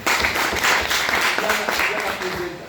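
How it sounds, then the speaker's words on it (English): Classroom applause for a student named Maria after her project presentation at a lower secondary school, a dense spell of clapping lasting about three seconds with voices mixed in beneath it. "Give a round of applause to Maria."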